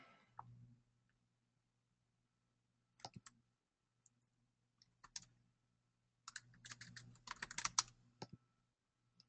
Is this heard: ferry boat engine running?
no